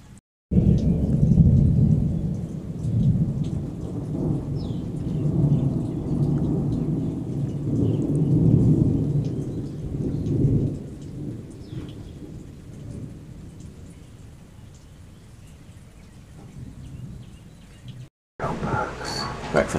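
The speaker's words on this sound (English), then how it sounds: "It's now, I'm getting rained on. It's now thunder and lightning." A heavy thunderstorm sets in outdoors with loud rolling thunder and steady rain. Deep rumbles dominate the first half, then ease into softer rain before a brief cut and renewed noise at the end.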